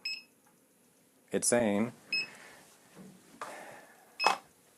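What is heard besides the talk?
Prusa i3 MK3 3D printer beeping at filament change pause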